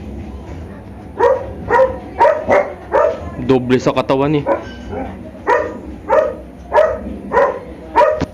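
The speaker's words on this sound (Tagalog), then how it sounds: "Iyan ang aso." A dog barks repeatedly and loudly in a steady rhythm, about two barks a second, with a voice talking briefly in the middle of the barking.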